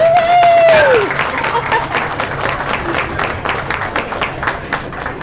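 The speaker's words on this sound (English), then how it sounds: "Let's give them a round of applause." Applause for the builders of a city dog park, a dense wash of clapping from a gathered crowd that carries on steadily after a voice finishes speaking.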